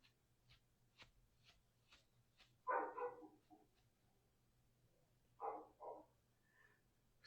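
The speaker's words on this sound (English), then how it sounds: "Sorry about the dog in the background." A neighbor's dog barks faintly in the distance, two short double barks spaced a few seconds apart, over soft tapping and a low background hum.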